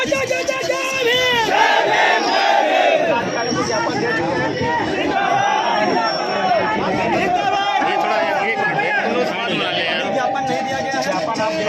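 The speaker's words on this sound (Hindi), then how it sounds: "यहाँ पे इतनी भीड़ है आजाद समाज पार्टी की" A large crowd roars at a political protest rally, with dense chanting, shouting and chatter from many voices filling the whole stretch loudly and without pause.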